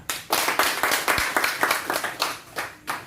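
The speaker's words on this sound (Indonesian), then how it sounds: "Sepakat nggak rekan-rekan semua? Sepakat. Tepuk tangan lah." Audience clapping at a reception for a change of social and cultural affairs head, a group clapping in uneven, loosely rhythmic bursts that stay moderately loud, with a faint voice underneath.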